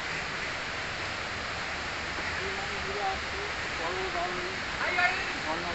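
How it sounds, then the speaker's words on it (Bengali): The Ramjodi waterfall near a cave, a steady, even rush of falling water filling the scene, with faint voices talking in the background. "বিখ্যাত ঝর্ণা রামজড়ি"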